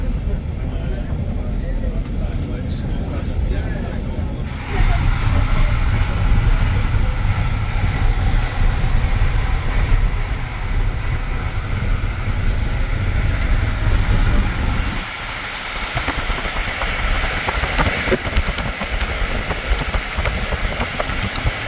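A train carriage rumbles along the rails with a steady, loud low roar and clatter, the tone shifting partway through.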